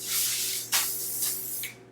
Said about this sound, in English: I'm just going to spray some Quick Tease underneath.